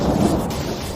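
A loud, close roll of thunder, a dense, steady rumble with a hiss like rain over it and no voices, lasting about a second.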